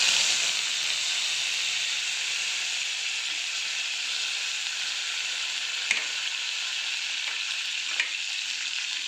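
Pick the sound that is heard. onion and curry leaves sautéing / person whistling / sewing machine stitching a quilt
onion and curry leaves sautéing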